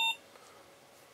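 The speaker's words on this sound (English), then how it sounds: "My alarms, the ducks swimming through my lines, not good." A carp fishing bite alarm at Linch Hill Fishery's Christchurch Lake gives one short, clear electronic beep, followed by quiet lakeside background.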